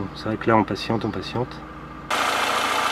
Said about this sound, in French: Le moteur s'est calé sur un ralenti tout à fait normal, ça ronronne.